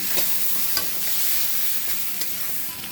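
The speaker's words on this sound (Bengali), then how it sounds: "এখন হলুদের গুঁড়া দিয়ে দিচ্ছি জিরার গুঁড়া দিয়ে দিচ্ছি কালারের জন্য সামান্য একটু লঙ্কার গুঁড়ো দিচ্ছি সব কিছু একসঙ্গে মিশিয়ে নিচ্ছি" Turmeric, cumin and chili powder being stirred together in a hot pan, a steady loud sizzle with a few faint scraping ticks from the spoon running underneath.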